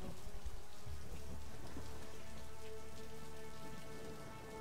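Rain pours in the Marvel's Avengers video game, a dense, close patter on surfaces with a low rumble beneath, easing slightly toward the end.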